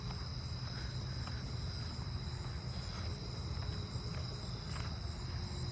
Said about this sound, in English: Southern ground crickets again.